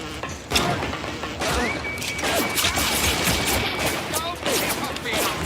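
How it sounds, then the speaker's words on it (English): Hacked security turret in BioShock firing sustained bursts of gunfire through its fights, dense and loud, with crashes and impacts mixed in and a game voice briefly over the shooting. "because I hacked the turret now fights for me"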